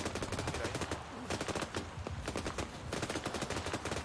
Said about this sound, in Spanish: Recibimos fuego de gran calibre.